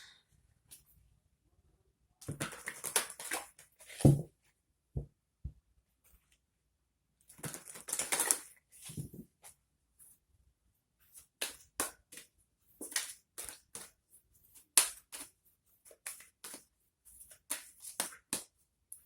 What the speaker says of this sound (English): I'm going to pull a couple of angel cards.